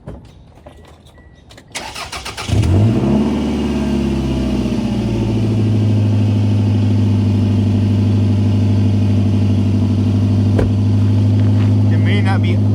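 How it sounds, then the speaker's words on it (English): A Toyota RAV4 engine cranks and catches, then idles with a loud, deep, rumbling drone from a broken exhaust pipe that continues steadily, close by. "that exhaust is way louder than it should be"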